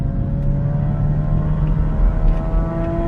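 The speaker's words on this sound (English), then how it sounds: "I didn't see any cars revving up like that or motorcycles" A continuous low engine rumble of a car or motorcycle revving nearby holds steady and loud, with no talk over it.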